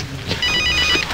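A mobile phone rings indoors with a bright electronic ringtone of steady repeating tones, fairly loud and close, over a little background noise.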